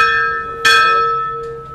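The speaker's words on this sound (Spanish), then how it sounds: "Lo reciben a uno con el toque de la campana de 1810." Bronze bell dating from 1810 at Café El Republicano in Venecia, struck once with a bright clang that hangs in a long ringing hum and slowly fades; no one speaks.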